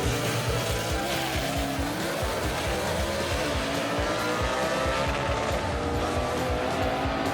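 A Southeast Gassers drag race, including Rick Varner's '55 Chevy gasser: a loud, sustained engine roar with throbbing low pulses and a faint tire-squeal edge runs continuously, close and without a break.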